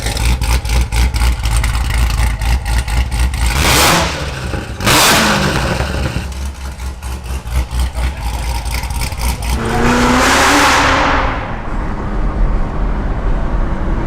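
A Corvette sports car engine starts for the first time and revs hard in loud, roaring bursts, then settles into a rumbling idle before surging once more.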